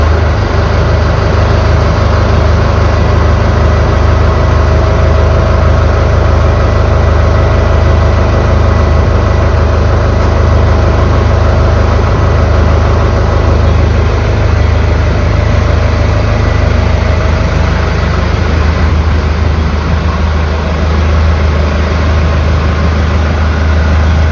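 A 95-horsepower Kubota diesel tractor with a slightly weak battery runs loud and close, a steady heavy low-pitched rumble that lasts throughout without interruption or voices.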